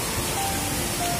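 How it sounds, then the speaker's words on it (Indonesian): Steady rain falls outdoors on a clifftop while bonsai material is dug up, a dense, even hiss of raindrops filling the whole stretch with no break. "Hujan lagi"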